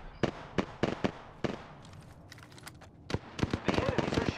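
Sharp, rapid gunshots from an Apex Legends firefight crack in quick bursts, some close and loud, others thinner and farther off, with game voice lines and callouts mixed in.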